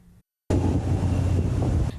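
Strong typhoon gusts batter Liaoluo harbour on Kinmen during Typhoon Doksuri. After a brief quiet gap, a loud, roaring wall of wind buffets the microphone continuously, with no voices.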